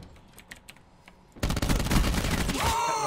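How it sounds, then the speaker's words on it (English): Gunfire in the Call of Duty Blackout video game: a few faint clicks and taps, then a sudden loud, rapid burst of shots that rattles on for over a second. "someone's already shooting."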